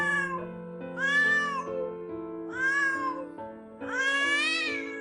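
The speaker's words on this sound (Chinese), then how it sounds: "突然听见后方阳台外面有猫在叫。" A cat meows repeatedly outside on a balcony at night, four drawn-out, wavering cries at a steady pace, fairly close and clear, with a low steady hum underneath.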